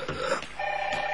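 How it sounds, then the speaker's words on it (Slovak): A telephone rings indoors in a short burst of electronic tones, moderately loud, with faint background noise around it. "Zvoní mi telefón."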